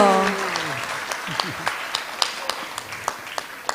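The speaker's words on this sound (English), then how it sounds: "let's give them a big round of applause" An audience at a Sunday temple feast applauds, scattered claps building into steady clapping, while a voice trails off at the start.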